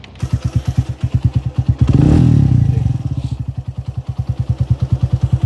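A modified Royal Enfield Bullet motorcycle engine idles loud and close with its steady thumping beat, swelling briefly into a rev before settling back to the even, chugging idle.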